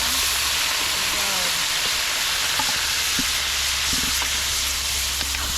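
Garlic and onion frying in hot oil in a pan, a steady close broadband sizzle throughout with a few faint knocks and scrapes of a utensil.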